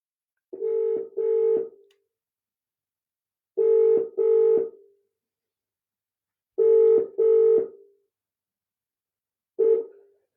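Telephone keypad tones in four short bursts, three pairs of quick beeps and a final single beep, evenly spaced and clear with silence between, as a call is placed to someone live during a community drama club's online show.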